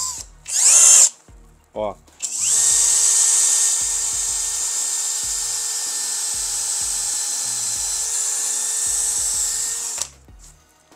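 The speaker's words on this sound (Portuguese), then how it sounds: "E eu vou começar com broca para madeira bem fininha." A FortG brushless drill driver with a very thin wood bit whirs up in short bursts, then runs in one sustained high whine for about eight seconds before stopping, with a brief spoken word at the end.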